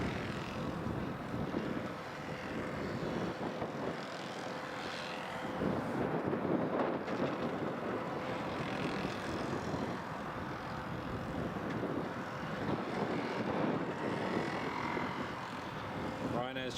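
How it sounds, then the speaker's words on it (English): A C-17 military aircraft on final approach at Prestwick Airport produces a distant, steady jet roar mixed with wind buffeting on the microphone, heard from afar under occasional talk. "the C-17 is just turned in on final now."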